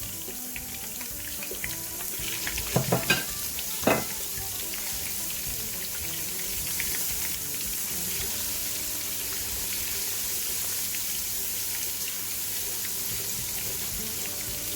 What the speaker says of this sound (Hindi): एक मिनट के लिए इसे मिक्स करूंगी, उसके बाद मैं इसमें चिकन ऐड कर दूंगी